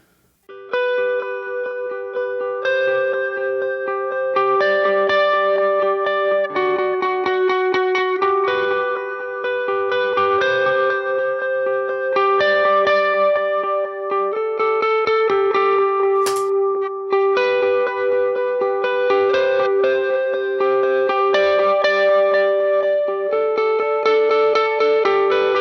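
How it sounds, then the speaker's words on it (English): Electric guitar played through an analog delay setting on a Nemesis delay pedal, a melodic line of picked notes whose repeats trail behind each one, steady and up close for about twenty-five seconds without talking. "So here is my sort of default analog delay tone on the Nemesis."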